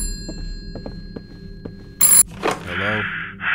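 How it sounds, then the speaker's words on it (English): A phone rings inside the VRChat video game, a short burst of bright electronic ringing over soft background noise, then a warbling ring tone. "Who's calling me?"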